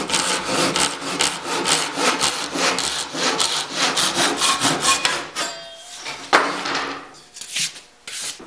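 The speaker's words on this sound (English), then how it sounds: "now I'm going to cross cut it with my handsaw" Handsaw cross-cutting a length of wooden picture frame molding in a miter box: steady rhythmic rasping strokes, close and loud, slowing into a few final scrapes as the cut finishes, with no talking.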